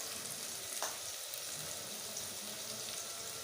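Turnip bhujiya fries in a pan with salt and red chilli, a soft continuous sizzle with a faint stirring scrape now and then, fairly quiet and steady with no voices.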